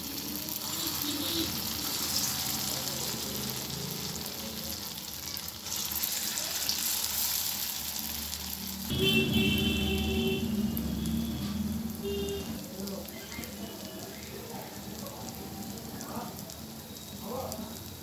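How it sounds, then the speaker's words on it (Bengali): Masoor dal fritters frying in hot oil in a kadai give off a steady, close, crackling sizzle that continues throughout, growing slightly busier midway. "আমি এবারে মুসুর ডালের বড়াগুলো ভেজে নিচ্ছি।"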